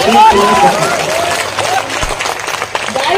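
Audience applause at a mushaira poetry gathering in Jamtara, a dense crowd clapping that stays loud throughout, with a voice speaking over it.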